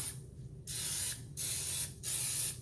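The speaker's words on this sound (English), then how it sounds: "I'm just going to spray it down with some olive oil." Three hissing bursts of an olive oil aerosol cooking spray onto a pan, each lasting about half a second, with short pauses between them.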